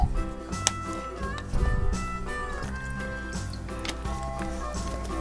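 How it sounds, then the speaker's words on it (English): Water is poured into a Paw Patrol Chase toy head, giving soft gurgling, squishy trickling and dripping sounds close by, with a faint background hum. "You can fill this up with water."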